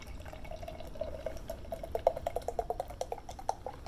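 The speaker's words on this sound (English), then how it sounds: "someone told me to be aggressive with the pour on this particular beer" Coconut milk stout poured aggressively from a can into a glass, a soft liquid pour with dense fizzing and crackling foam, close and quiet, with no talk.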